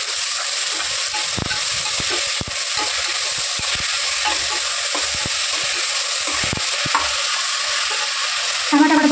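Tomatoes frying in oil in a pan with drumsticks, a loud steady sizzle broken by repeated clicking scrapes of a spoon stirring against the pan.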